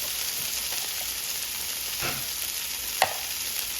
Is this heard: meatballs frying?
yes